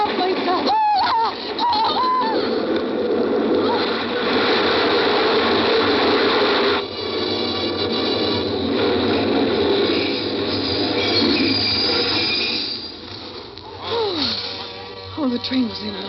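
A subway train rumbles and screeches through a station, metallic grinding and clanking swelling then fading as it passes, with a brief squeal near the end.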